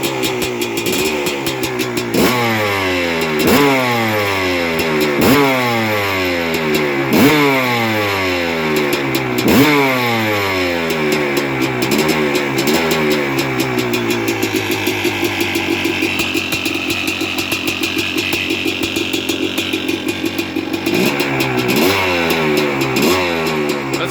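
A KX250 dirt bike with a freshly rebuilt top end and cylinder, warmed up and revved hard: loud, close blips climb and fall in a steady series of about a dozen sweeps, then settle into a fast, sustained high rev, with no voices.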